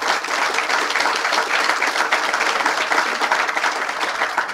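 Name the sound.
applause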